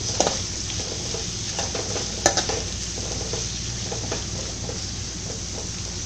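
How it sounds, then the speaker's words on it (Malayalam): Sliced onions sautéing in hot oil for Kerala beef ularthu, a continuous loud sizzle with frequent scraping and stirring of a ladle against the pan, one sharper clank partway through. "തിളച്ച എണ്ണയിലേക്ക് സവോള ഇട്ട് നമുക്കൊന്ന് വഴറ്റിയെടുക്കാം"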